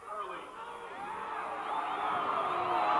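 A spirited crowd at an evening baseball game in Qualcomm Stadium, a 1997 high school playoff, murmurs and calls out as a steady, fairly distant hubbub that swells slightly, with voices mixed in.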